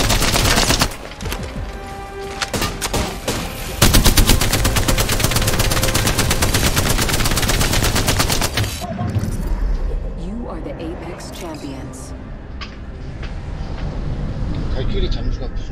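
Rapid, loud bursts of gunfire in Apex Legends season 11, with Revenant in play, pour out in dense volleys through the first half and then thin into scattered shots under ongoing background game noise while voices talk.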